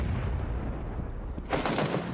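Gunfire in the battle royale game PUBG during a Nations Cup esports match, heard as a loud burst of rapid automatic shots near the end, over a steady background of game noise.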